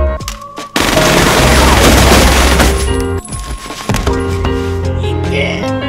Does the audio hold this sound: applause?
no